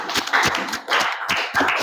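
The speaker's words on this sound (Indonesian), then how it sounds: "Beri tepuk tangan" Students in a classroom clap in short bursts, sharp close claps in a few uneven waves with brief gaps between them.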